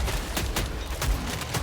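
Rapid bursts of gunfire from an upgraded, custom-built gun in a shooter game, sharp shots cracking out in a quick, uneven stream, loud and close with no talking.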